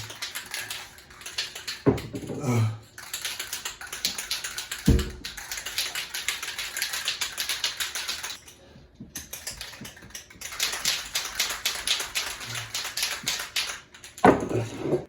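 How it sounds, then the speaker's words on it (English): Metal balls rattle rapidly inside spray paint cans being shaken up close, in long steady bursts with short pauses between, and one brief groan. "I'm going to shake all the cans ahead of time"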